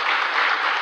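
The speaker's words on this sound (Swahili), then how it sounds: "Coach Cheche, tumpigie makofi huyo." A crowd applauds Coach Cheche of Kenya's Harambee Starlets women's football team at a meeting with President William Ruto, steady dense clapping throughout.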